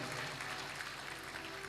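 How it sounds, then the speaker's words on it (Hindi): An audience at a religious gathering claps together in a dense, steady burst of applause, faint and somewhat distant, with no break through the short stretch. "जरा एक बार ताली बजा करके आप मुझे स्वीकृति प्रदान करें"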